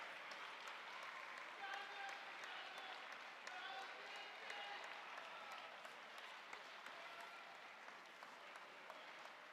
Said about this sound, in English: Incredible support from the crowd in the very last stretch.